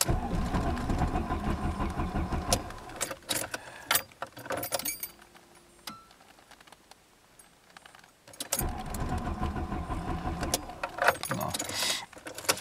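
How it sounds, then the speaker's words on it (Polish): A Volkswagen Passat B3 1.8 starter motor cranks repeatedly with a fast, rough whirring and jangling, struggling to start, stops for a few seconds of near quiet, then cranks again. "już rozrusznik nie kręci normalnie"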